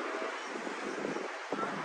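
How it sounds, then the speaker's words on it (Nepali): Wind blowing outdoors in a parking area near a football stadium on a rainy evening, a steady rushing hiss buffeting the microphone, close and fairly loud with no clear talk. "हावा चाहिँ चल्ने रहेछ"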